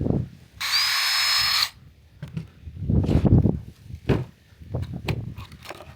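A power drill fitted with a fine bit whirs in one short, high burst of about a second while boring into a cactus pad, followed by soft scraping and handling knocks.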